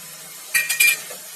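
Coriander and mint leaves stirred in a pot, a brief pair of metallic clinks and scrapes from the spoon over a faint background sizzle.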